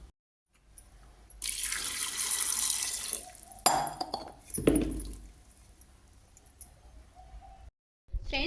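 Water pours into a pot of boiled water chestnuts in a village kitchen, a steady broadband splash lasting a few seconds, then a second brief pour, ending with quiet clinks.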